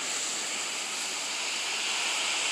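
Water sprays steadily from a hose to soak down a hydroponic planting bed during system cleanup, a close, continuous hiss with no pauses and no talking.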